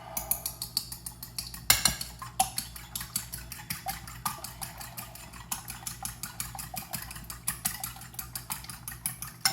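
Lumpia filling being mixed in a bowl, a steady run of soft clinks, scrapes and taps from a utensil against the bowl, repeating in an uneven rhythm close by, with a low hum underneath.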